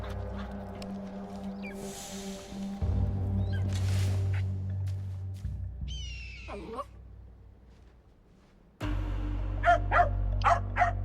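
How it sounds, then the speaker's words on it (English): A dog barks a few times in the video game Assassin's Creed Shadows, heard over a steady low in-game ambience, with one sudden rise in background level near the end. "we're going to annoy the dog, which is going to cause Akechi to come"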